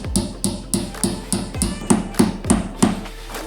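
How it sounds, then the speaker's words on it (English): A hammer taps repeatedly during flat-pack furniture assembly for a home studio, about a dozen evenly spaced, sharp knocks ringing close and loud with no talking. "And I need a hammer"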